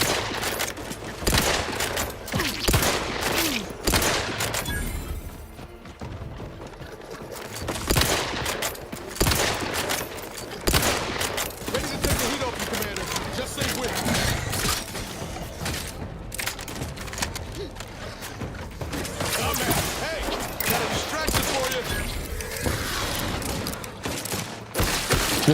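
Gunfire from a weapon in the video game Outer Worlds 2 sounds as dense, loud volleys of shots that continue nearly throughout, with short pauses and heavy impacts mixed in.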